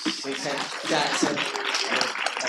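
Audience applause at a humanitarian child-protection session fills the room in a continuous wash of clapping, mixed with voices talking over it.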